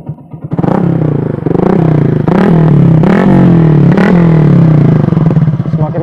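Yamaha MX King 150 motorcycle fitted with a Tridente F20 Raptor exhaust, revved repeatedly in loud bursts over a steady idle, each blip rising and falling, close up with no talk.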